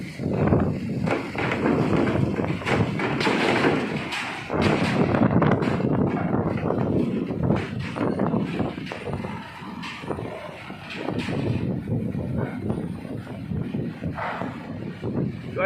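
Strong wind with drizzle at Merak pier on the Sunda Strait: continuous gusty rumble and buffeting against the microphone, with thumps and dips in level as the gusts rise and fall.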